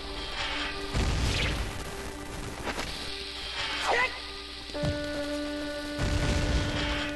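A bomb goes off in The Legend of Zelda: Ocarina of Time inside a temple, several dull booms and crashing impacts scattered across the moment amid game tones, moderately loud.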